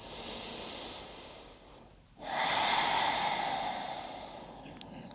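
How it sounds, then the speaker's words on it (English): Slow, close breathing during a grounding yoga pose: a long airy inhale, a brief pause, then an extended exhale, heard alone in a quiet room. "We're going to be here for about another 6 breaths"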